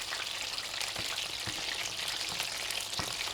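Fish fries in hot oil, street food style, making a steady, dense sizzle with scattered small pops and occasional soft knocks, heard close and alone without speech.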